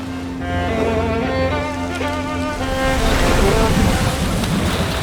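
Waves wash in at Subic Beach in Matnog, Philippines, with a low rumble and a rising wash of surf. A steady engine-like tone runs through the first half, and there is no talking.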